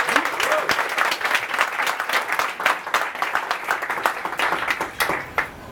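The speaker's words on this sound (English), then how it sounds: "Let's clap it up for that question." Audience at a live business Q&A show claps for a question, a lively burst of many hands with sharp individual claps standing out, fairly close, holding steady for several seconds.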